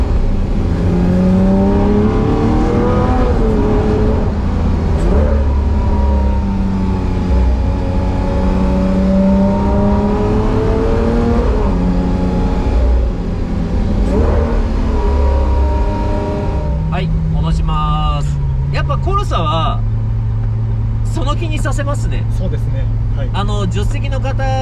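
A Lamborghini Sian Roadster hybrid supercar is driven with light throttle, its engine rising and falling in smooth revs before settling into a steady drone, heard from inside the cabin at fairly high level.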